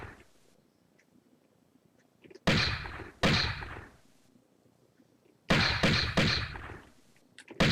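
Pistol shots fired at apes in Tomb Raider 1, loud sharp reports in two clusters, a pair about a second apart and then three in quick succession, separated by near silence, with no talking.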